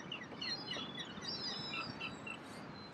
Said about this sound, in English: I don't think I've ever seen so many seagulls in one place